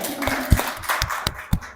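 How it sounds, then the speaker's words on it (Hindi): Schoolchildren in a school session clap in a scattered, uneven burst of hand claps, with a few sharper claps standing out close by over a background murmur. "ताली तो बजाओ, कितनी अच्छी बात बताई है।"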